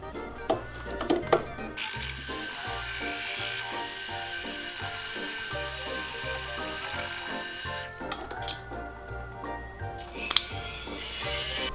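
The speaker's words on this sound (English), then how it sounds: "we're going to thin out the inside of the band on the lathe" A lathe thinning the inside of a Franklin half dollar coin ring band, a steady motor drone with a hum underneath, a few clicks and taps at the start and a change in tone partway through.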